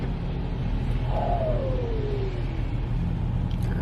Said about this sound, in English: I don't know if that truck slid or what that noise was that truck made